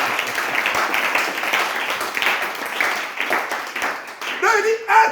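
A church congregation applauds and acclaims the Lord, a few seconds of crowd clapping mixed with cheering voices, fairly loud and close, thinning out as a single voice emerges at the end.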